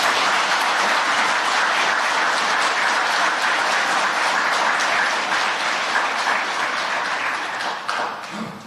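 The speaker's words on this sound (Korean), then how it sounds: "다시 한번 뜨거운 위로와 격려의 박수를 부탁드립니다." Warm, sustained applause from an audience at a memorial gathering offers comfort and encouragement to bereaved families, with dense, steady clapping that gradually thins and fades near the end.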